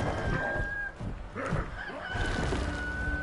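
Chicken-like clucking and cooing from characters in the video game LEGO Marvel Super Heroes, faint and repeated over a busy game soundtrack.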